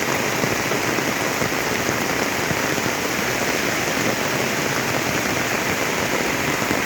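Heavy rain pours steadily down at a house, a dense, loud, unbroken hiss of water falling on surfaces that fills every moment without a break.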